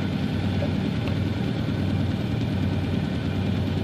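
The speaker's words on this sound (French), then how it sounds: "Bon, ben, on a démarré le moteur." A sailboat's inboard engine runs steadily at sea, a low, even drone that holds unchanged and alone at close range throughout.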